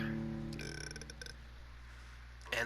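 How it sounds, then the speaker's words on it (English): A man lets out a low, throaty burp after a sip of drink, near and fairly soft, followed by a few faint clicks and a brief louder burst at the end. "And a burp."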